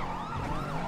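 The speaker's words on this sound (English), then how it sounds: "Cop sirens?" A wailing police siren in a video game sweeps up and down in pitch, loud and continuous through the brief moment, with no talking.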